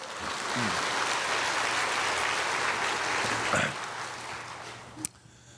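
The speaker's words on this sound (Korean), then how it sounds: "박수를 쳐." Congregation clapping together during a Korean church sermon, a dense steady patter of many hands lasting several seconds before thinning out and stopping.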